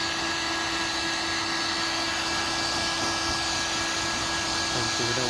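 A heat gun blows hot air onto a car bumper with a constant, loud whooshing hiss and a steady whine, unbroken throughout.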